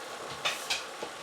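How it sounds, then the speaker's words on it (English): Flour being whisked into gravy in a pan for a small roast meal: a few quick scraping strokes at a soft, close level, with no voices present. "We're just going to whisk this real fast."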